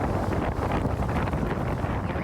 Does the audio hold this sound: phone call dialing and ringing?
no